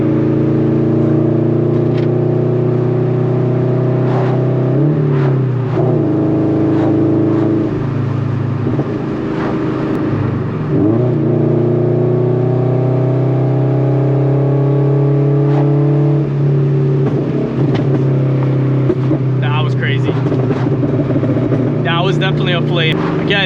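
A heavily modified Scion FR-S / Subaru BRZ / Toyota 86 with a loud exhaust drones steadily from close range, its pitch shifting as the throttle changes, with crackling pops toward the end and someone talking over it.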